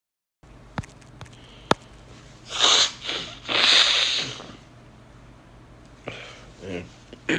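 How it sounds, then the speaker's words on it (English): A person blows their nose in two long, breathy, honking pushes close by, after a few sharp clicks and taps over a steady low room hum. "Blow my nose."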